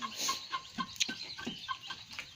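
Chickens cluck in a quick, uneven series of short calls, close and clear against a quiet background.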